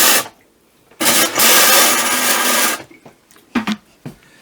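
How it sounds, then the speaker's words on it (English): A foot-pedal flush toilet in the bathroom of a 2021 Volante 270BH fifth-wheel RV flushes with a loud rushing burst of water lasting a couple of seconds, then quieter clicks and gurgles. "You push the pedal down halfway to fill the bowl, all the way to flush"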